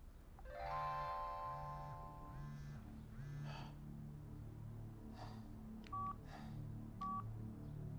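Telephone keypad tones dial 911 in a tense thriller scene, a quick run of beeping touch-tones followed by two separate single beeps over a quiet, murmuring background hum.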